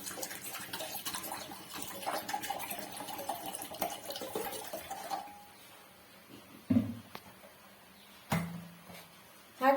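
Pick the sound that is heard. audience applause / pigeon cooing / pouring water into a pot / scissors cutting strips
pouring water into a pot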